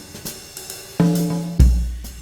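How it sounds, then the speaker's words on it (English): A "Cool West" jazz groove loop plays with light, evenly spaced percussive hits over sustained low bass notes, including a deep, heavy bass note near the end, with no voices. "You'll have a groove like this, great jazz groove"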